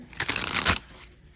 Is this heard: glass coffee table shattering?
no